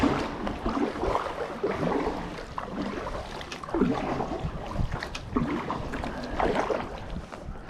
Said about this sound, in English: the wind won't be so bad